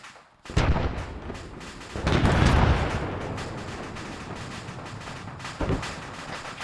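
Artillery fire in the Arma 3 military game, with several heavy booming blasts and a long rolling rumble that decays between impacts, loud and close with no talk over it.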